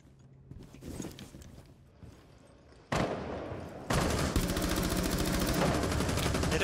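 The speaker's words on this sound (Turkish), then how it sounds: "Bakayım mermi sıkıyorum üstüne" Gunfire in Rainbow Six Siege: quiet ambience gives way to a sudden loud burst at about three seconds, then sustained rapid automatic fire that keeps going to the end.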